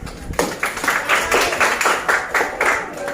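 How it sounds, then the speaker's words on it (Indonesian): A class in Banda Aceh gives a short round of clapping after a pupil's answer, loud and fairly rhythmic, with claps coming in regular pulses for a few seconds. "Oke, tepuk tangan."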